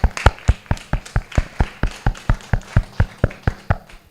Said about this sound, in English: Please, round of applause for him